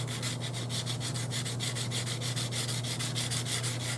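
A solid-body electric guitar, a '58 double-cut Junior replica, is sanded by hand with fine 600-grit sandpaper. The close, steady rubbing comes in quick, even back-and-forth strokes throughout, with no voices.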